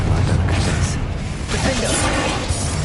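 The Confringo spell is cast in the Hogwarts Legacy video game, making a loud, noisy blast with crackling, whooshing texture that sustains throughout and briefly dips before surging again.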